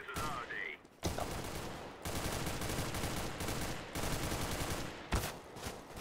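Rapid bursts of gunfire from a CS:GO firefight, dense and sustained across several seconds with brief pauses, loud and close, with no speech in the clip.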